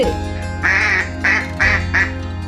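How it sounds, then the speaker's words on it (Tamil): A duck quacks four times in a steady rhythm, loud and close, with short pauses between the nasal calls. "வாத்து,"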